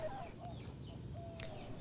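Backyard chickens cluck softly in a few short, scattered calls against a quiet low rumble, heard at a modest distance over a bin of black soldier fly larvae set on the ground.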